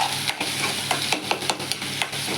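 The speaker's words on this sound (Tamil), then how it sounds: "ரெண்டு முட்டை உடச்சிட்டு நல்லா இப்படி எண்ணெயில் வதக்கி வைக்கணும்" Eggs crackle and sizzle steadily in oil in a pan, with a few sharp scraping taps from a utensil stirring them, close by and no talking.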